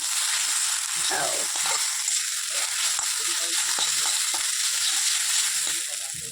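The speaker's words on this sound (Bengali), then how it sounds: "এর মধ্যে দিয়ে দিচ্ছি ডিম আর ডিমের সাথেও এটাকে নাড়াচাড়া করে নেব" Chowmein and egg are turned in a sizzling frying pan, a loud continuous hiss with faint scraping and tapping of the stirring spoon throughout, fading slightly at the end.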